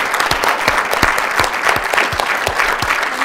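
A loud, dense round of applause from an audience after a speech, many hands clapping close and steady throughout the brief stretch, with individual sharp claps punching through the wash.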